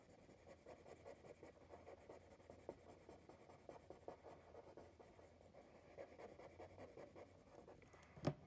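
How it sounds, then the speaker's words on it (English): Colored pencil shades alternating bars on paper with a steady, soft, scratchy rubbing that continues without a break, quiet and close, with no voices. "I'm only coloring or shading every other bar"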